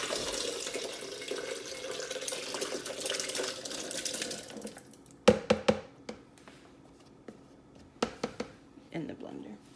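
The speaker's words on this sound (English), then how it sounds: "And we are pouring the cashews." Cashews poured into a blender: a rushing, rattling pour lasting several seconds, then a scatter of sharp close clicks and taps as the last nuts drop in.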